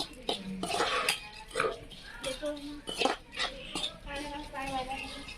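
Shrimp being roasted and stirred in a pan over a wood-fired stove, with a utensil scraping and clinking against the metal in short irregular bursts while someone talks throughout.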